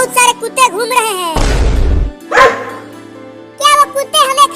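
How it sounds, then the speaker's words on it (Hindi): Cartoon dogs barking in a few sharp bursts between stretches of animated character speech, with a brief noisy rush in the middle. "कुत्ते घूम रहे हैं।"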